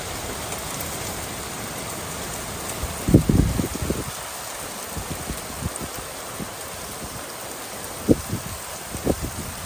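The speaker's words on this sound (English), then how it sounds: "One minute of intense rain, lightning, thunder." Heavy rain hisses down steadily, with a few louder spatters and thumps of drops hitting nearby surfaces.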